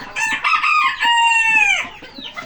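A chicken in a coop lets out a loud, close, drawn-out vocal call lasting under two seconds, clear and alone with no talking.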